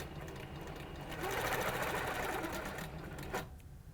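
A sewing machine stitching along a triangle quilting ruler runs steadily for about three seconds, its needle hum swelling slightly in the middle, then cuts off abruptly with a brief clack. The sound is close and alone, with no talking.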